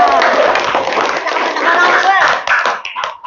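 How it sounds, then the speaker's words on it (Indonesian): Students in a classroom clap and cheer, a loud, busy mix of hand claps and children's voices that thins out toward the end into scattered shouts. "Tepuk tangan untuk kalian semua."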